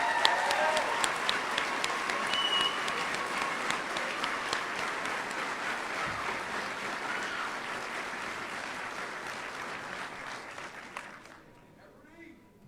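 A large audience at a military academy graduation ceremony applauds a guest speaker, sustained crowd clapping for about eleven seconds that gradually thins and stops.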